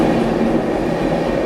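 Trivandrum Rajdhani Express train at Surat's platform 1 during a three-minute halt, giving a steady, loud broadband rumble and hum of rail cars with no talking.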